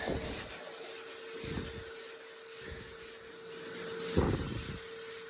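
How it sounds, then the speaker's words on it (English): Rhythmic scraping strokes as a sanding block works filler and high-build primer on the body of a 1967 Pontiac Firebird, each pass a close, gritty rub repeating every second or so. "Okay, so now do like a conventional block sand on it."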